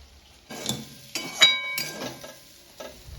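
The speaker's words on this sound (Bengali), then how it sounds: "নাড়াচাড়া করে নেব।" Young jackfruit curry with spices being stirred in a frying pan: several distinct scraping strokes of a spoon against the pan over a soft sizzle, close up and irregularly spaced.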